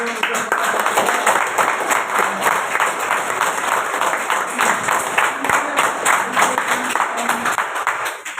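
An award-ceremony audience applauds steadily and loudly for the whole stretch, a dense wash of clapping with some voices mixed in.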